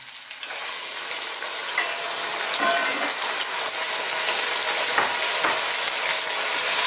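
Chicken hits a hot frying pan with garlic and coconut milk for Filipino ginataang manok, a loud, steady, close sizzle and crackle that runs throughout with a few stirring clinks and no talk.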